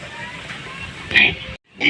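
Pig oinks and grunts sound up close in a couple of short bursts, with a brief silence between, against background noise and some voice.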